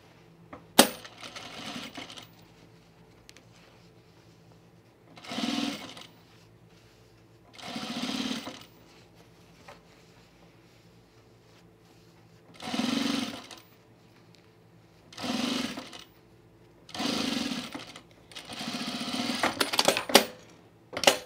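A sewing machine understitches the pocket of chino pants in several short bursts of a second or two, spaced by quiet gaps, with a longer run at the end, close up and without talk.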